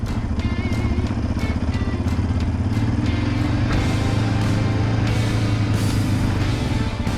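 Yamaha Raptor 700R ATV engine runs loud and close, pulling away from a slow clutch release and climbing steadily through the revs with continuous rough exhaust drone and some rattling clatter.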